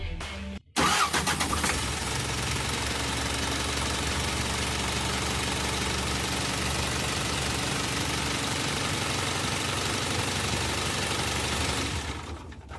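An Isuzu 4HF1 diesel engine cranks briefly and catches, then settles into a steady, loud, close idle that runs for about ten seconds before cutting off.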